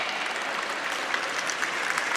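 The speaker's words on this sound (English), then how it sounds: "Let's hear it for Ike McKinnon" Audience at a charity gala applauding, a dense, steady burst of clapping from a large indoor crowd, close and fairly loud.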